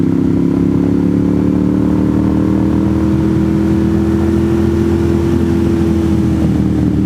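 A Ducati Monster motorcycle engine drones steadily and loudly while riding on fresh tires along the winding GA60 mountain road from Blue Ridge to Suches in North Georgia, with no voices over it.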